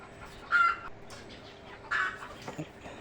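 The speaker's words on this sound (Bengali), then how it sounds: "এখানে আমার বারো তেরোটি মুরগি আছে" Free-range desi hens on a small farm give two short, close clucking bursts, with a few softer clucks trailing off over quiet background.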